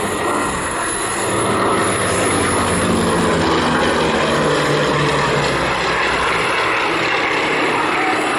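A twin-engine aircraft flies past at an airshow, a loud, steady propeller-engine drone filling the whole stretch with no letup and no voices over it.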